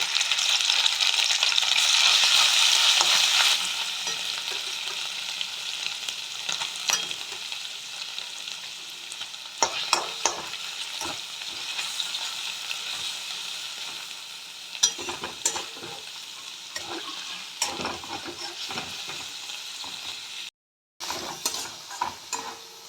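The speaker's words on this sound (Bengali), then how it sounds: "এই তেলের মধ্যে মাছটা দিয়ে দেবো" Previously boiled fish with crushed garlic hisses loudly as it goes into hot oil, then settles into a steadier sizzle broken by sharp crackles and stirring clatter, with no voices.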